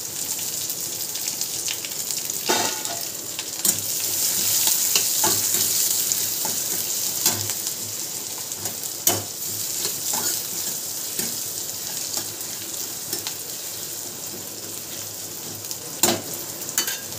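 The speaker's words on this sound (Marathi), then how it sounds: "कढीपत्ता टाकते, कांदा टाकते, गाजर पण टाकते. म्हणजे कांद्यासोबत ते पण मस्त लाल असं भाजून होईल." Curry leaves, onion and carrot sizzle steadily in hot oil in a pan for upma, a soft constant crackle broken by occasional sharp clinks of a spoon stirring.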